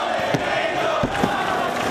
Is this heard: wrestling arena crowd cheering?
yes